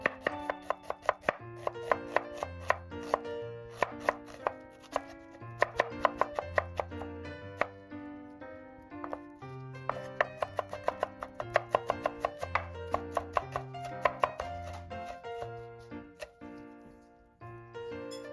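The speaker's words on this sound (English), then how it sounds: "Finely chop a half red onion." Half a red onion is finely chopped with a knife on a board, quick, crisp taps in bursts, heard under a bright background melody.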